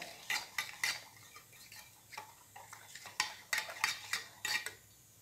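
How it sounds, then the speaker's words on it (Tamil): A spoon stirs a thick paneer-finger batter in a bowl, making a quiet run of sharp clinks and taps against the sides in an uneven rhythm, close and without any voices. "லம்ஸ் இல்லாமல் நல்லா இந்த மாதிரி கலக்கி வச்சுக்கோங்க"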